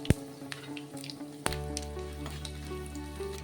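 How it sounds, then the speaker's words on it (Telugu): Dry red chili dropped into hot oil for tempering in a home kitchen, a sharp crackle at the start giving way to a steady, close sizzle with small pops. "పోపు వేసుకుందాం ఆయిల్ వేడెక్కింది కదా"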